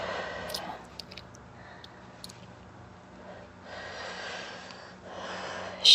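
Slow, deep breaths during a yoga flow, soft airy inhales and exhales rising and falling close to the mic, with a louder breath swelling at the end.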